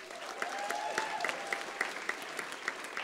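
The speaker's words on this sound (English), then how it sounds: "please give another round of applause for Sergio Tabanico on tenor sax" Audience applause at a college recognition ceremony for a tenor sax player, a steady wash of many hands clapping at moderate distance, with a faint sustained tone early on and no talk over it.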